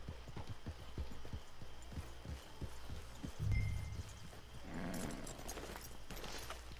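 Horse hooves clip-clopping at a steady walking pace in the video game Red Dead Redemption 2, an even run of soft thuds that stops partway, followed by quieter ambient game sounds.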